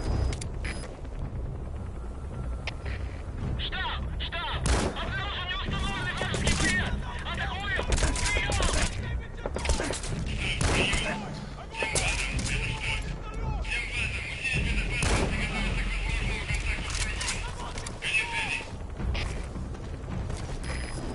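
Gunfire in the video game Metal Gear Solid V: The Phantom Pain, steady dense bursts and mechanical clatter running throughout the whole stretch under game speech and radio chatter.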